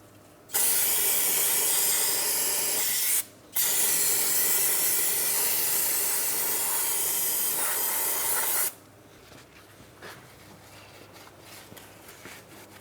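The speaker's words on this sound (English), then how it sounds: "I'm going to use some parts cleaner" Parts cleaner hisses from an aerosol can around the front right CV axle of a 2004-2008 Pontiac Grand Prix 3.8L V6. Two loud, close, sustained bursts are split by a brief pause, then quieter workshop handling noises follow.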